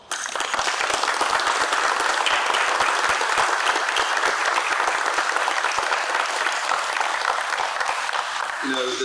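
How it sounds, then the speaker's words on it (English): A room full of people gives a sustained round of applause for an urban search and rescue task force, dense, close and steady for several seconds before it abruptly stops. "And I want to give them a round of applause."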